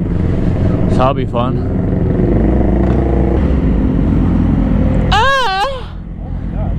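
A group of sport motorcycles, a ZX6R alongside R6 and R3 models, idling and rolling off together with a steady engine drone, one bike revving sharply near the end, while riders talk over the engines.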